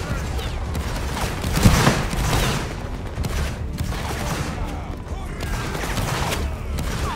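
In the Roblox Napoleonic Wars game, a musket volley sounds as one loud crackling burst of massed shots over constant battlefield noise, while players talk over voice chat.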